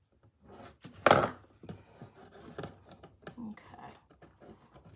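A tool scrapes at a transfer stuck to a hutch door, giving short scratchy strokes with one louder rasp near the start, then quieter uneven scrapes that continue to the end.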